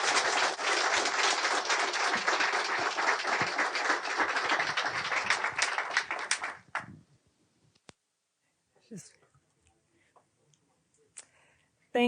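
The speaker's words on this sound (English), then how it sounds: "a round of applause for our panel" A lecture audience applauds a panel, a dense, loud burst of clapping that fills the room for about six seconds and then cuts off into near silence, broken only by a few faint clicks and rustles.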